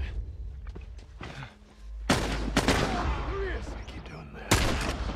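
Sniper rifle shots in The Last of Us: two loud, booming reports about two seconds apart, each with a long echoing tail, heard over a low game ambience.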